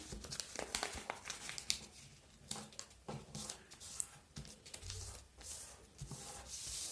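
Paper being folded, creased and smoothed for a wallet craft, close-up crinkling and rubbing with sharp crackles and soft sliding strokes, irregular and quiet, without speech.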